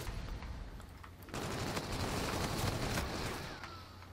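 Rapid automatic gunfire from the video game Infinite Warfare, a dense sustained burst of shots that starts abruptly and fades slightly toward the end, with no talking.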